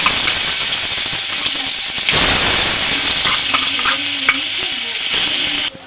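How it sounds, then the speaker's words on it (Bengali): Ground cabbage-leaf paste dropped into hot oil tempered with black cumin, a loud close sizzle and hiss with steady stirring scrapes, swelling briefly as more goes in before cutting off at the end. "পেস্ট করা বাঁধাকপির পাতাটা দিয়ে দেবো তেলের মধ্যে।"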